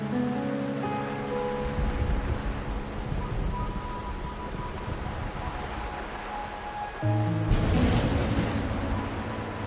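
Steady rain in the video game Wuthering Waves, a dense, even hiss that continues throughout under soft tonal music, growing a little louder near the end.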